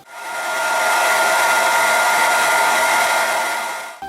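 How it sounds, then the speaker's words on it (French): A hair dryer blows with a steady, loud whooshing roar that holds constant for about four seconds before cutting off abruptly, with no voices present. "Cas numéro 1, le sèche-cheveux."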